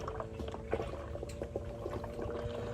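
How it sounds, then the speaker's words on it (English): Motor oil from a 2017 Honda Africa Twin DCT drains steadily into a waste oil bucket, a quiet continuous trickle and pour with faint bubbling throughout. "drain my oil into my waste oil bucket"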